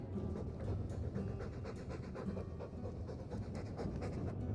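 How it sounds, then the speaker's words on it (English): A dog in Dragon Age 2 pants steadily, a close, rhythmic huffing that runs without a break over low ambient game noise. "All that noisy dog breath, day in, day out, make him stop."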